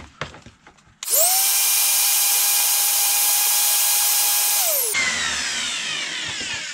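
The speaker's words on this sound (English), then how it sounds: "nothing gets used more than your palm sander" A palm sander runs off a boat's power inverter, starting with a sharp jump into a loud, steady high-pitched whine, then its pitch shifts and the whine fades slightly as it winds down.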